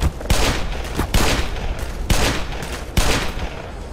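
Rapid weapon fire in the shooter game Black Mesa comes in four loud bursts, each sharp opening crack trailing into a dense rattle of shots, spaced roughly a second apart.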